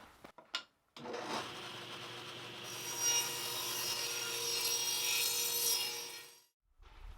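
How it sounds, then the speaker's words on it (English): A table saw rips through a board, a loud steady whine with harsh broadband cutting noise that holds for about five and a half seconds and then runs down, with a few brief knocks before the cut starts. "I like to rip this on the table saw just to minimize the cutting on the bandsaw"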